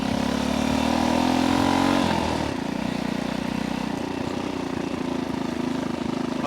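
A vintage 1964 Honda C200 motorcycle engine revs steadily while riding, then the pitch drops as the gear shifts, and a lower, even drone continues. The sound is close and loud, with no speech.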